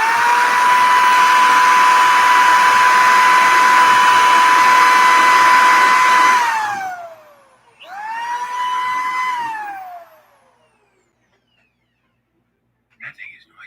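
A power drill, running with a wobble during RC car maintenance, whines loudly at a steady pitch, winds down, revs up briefly again and stops, leaving quiet with a faint click at the end.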